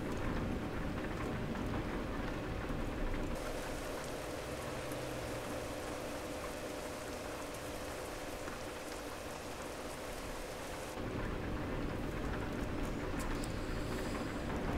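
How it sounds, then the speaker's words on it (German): Rain drumming steadily on a moving car during a road trip through the Balkans, a constant dense patter that stays even and moderately loud throughout with no talk. "Der Regen hier."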